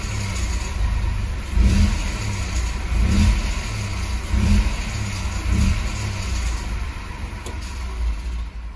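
Renault Dacia TCe 1.0 engine with a fault noise, heard from inside the car, a steady low engine drone with rhythmic swells as it revs and eases off, fairly loud and without speech.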